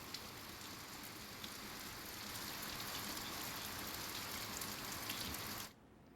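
Monsoon rain in Gujarat: steady, dense hiss of falling rain on surfaces, even and continuous, cutting off abruptly near the end.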